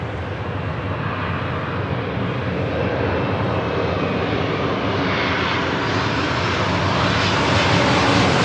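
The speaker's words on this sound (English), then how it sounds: "It's the flight coming in from Paris and 787-9 Dreamliner with Air Tahiti Nui." An Air Tahiti Nui Boeing 787-9 Dreamliner arriving at Los Angeles International Airport from Paris, a loud, sustained jet engine roar that swells slightly as it passes close by, with no voices.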